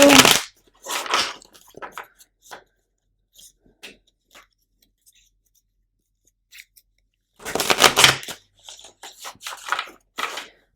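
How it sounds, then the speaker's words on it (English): Tarot cards are shuffled in short, crisp riffling bursts: a flurry at the start, scattered light taps and flicks in a quiet stretch, then another loud close riffle near the end. "Spirit is telling me to shuffle these cards, so that's what I am going to do."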